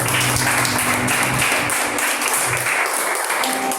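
A church congregation claps steadily in sustained applause during a worship service, dense and continuous for a few seconds.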